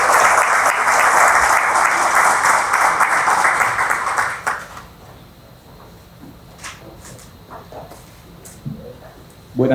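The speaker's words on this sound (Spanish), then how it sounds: "Por favor, con sus aplausos." A loud burst of audience applause for a speaker at a Supreme Court of Justice event fills the first four seconds, then fades to quiet room noise with a few scattered claps and small knocks.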